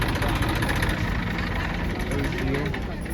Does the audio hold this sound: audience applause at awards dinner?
no